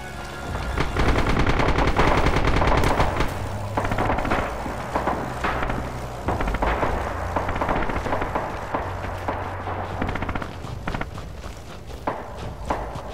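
Machine gun bursts in the WWII shooter Red Orchestra 2 multiplayer, loud dense automatic fire with overlapping shots and battlefield clatter continuing through the whole stretch, no speech.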